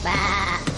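A single sheep bleats loudly and close in a sustained, wavering cry, followed by a brief second note at the end.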